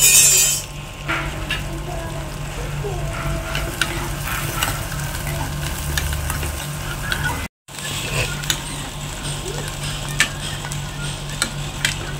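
Food fries and sizzles on a home stove while a utensil stirs and scrapes the pan, with light clicks and clinks over a constant close sizzle and a brief dropout midway.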